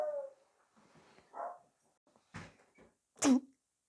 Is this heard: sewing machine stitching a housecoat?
no